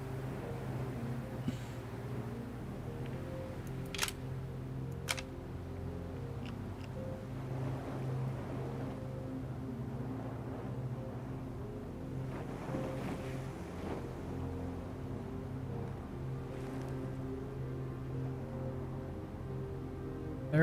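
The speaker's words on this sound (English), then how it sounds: "when I go running, sounds like there's water, like I'm on a coast or shoreline" Ocean waves wash against a shoreline in the video game Star Citizen, a continuous low rushing surge with wind-like noise and a few faint clicks on top.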